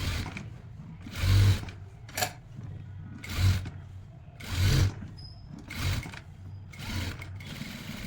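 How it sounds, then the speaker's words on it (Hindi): A sewing machine running a line of stitching along the edge of a shirt collar piece, in several short whirring bursts separated by brief pauses, close and moderately loud. "इसके साथ साथ एक किनारे पे सिलाई और लगा लेंगे सेंटर में।"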